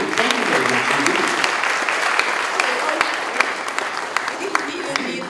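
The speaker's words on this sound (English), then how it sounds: "they just clapped" Steady applause from a live event audience, continuous clapping that fills the whole span at a fairly loud, even level with a few sharper individual claps standing out near the end.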